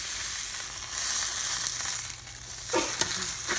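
A Cuban sandwich sizzles in a pan after being flipped, a close, even hiss with a few soft scraping and crackling bursts toward the end, no voices.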